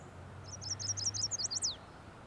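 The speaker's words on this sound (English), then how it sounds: "That was chestnut-sided warbler." A chestnut-sided warbler sings one bright, rapid phrase of high, accelerating notes that ends in an emphatic downslurred flourish, clear above a low steady hum.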